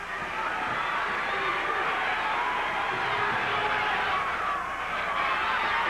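Dense crowd noise fills a high school wrestling gym during the 103-pound Eastern Regional championship final. The roar stays steady and loud throughout and builds slightly near the end.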